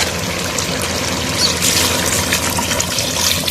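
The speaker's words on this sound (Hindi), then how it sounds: "अब हम इसमें पानी ऐड करेंगे।" Water poured into a pot of beef paya, a continuous splashing, trickling stream heard close and loud for several seconds.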